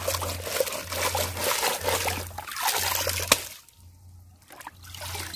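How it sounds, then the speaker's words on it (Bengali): Vegetables are rinsed by hand in outdoor water, giving continuous trickling and splashing that pauses briefly, then resumes, with a low rhythmic hum underneath. "তো সবজিটা আগে ধুয়ে নিই"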